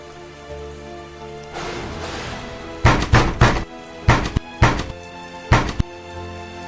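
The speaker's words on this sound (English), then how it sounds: "listening to the storm batter the castle walls." A storm with rain battering castle walls: a steady hiss of downpour overlaid by several loud, heavy thuds in irregular clusters, close and forceful, with no voices.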